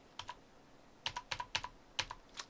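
Keystrokes on a computer keyboard, a few quick clusters of crisp clicks in short bursts, close and quiet, with no voices.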